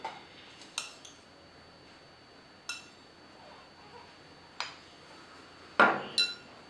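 A spoon mixes cocoa powder chocolate topping in a bowl for homemade donuts, giving a handful of sharp, scattered clinks against the bowl with quiet gaps between them, the last two close together.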